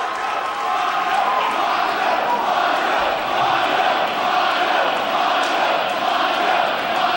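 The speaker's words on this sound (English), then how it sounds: "Listen to this crowd." A large indoor wrestling crowd roars and cheers loudly and continuously, a steady wash of many voices with no single voice standing out.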